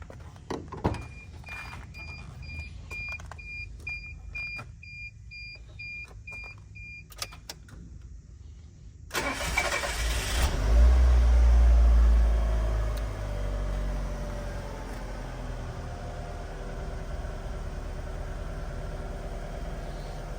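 A blue Mazda Bongo with 77,000 km cranks from cold and catches, settling into a steady, low idle after earlier electronic dash beeps and clicks.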